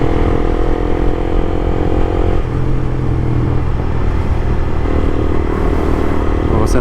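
A motorcycle pulls away hard on takeoff, its engine rising in loud revs with a clear gear-change drop partway through, close and strong throughout.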